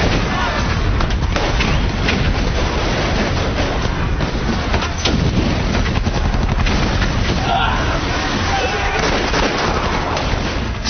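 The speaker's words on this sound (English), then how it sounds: "they were opening fire on anything and everything on the Japanese side." WW2 infantry battle at a Japanese camp, dense and loud gunfire with rapid bursts and heavy booms in an unbroken barrage, with a voice talking over it.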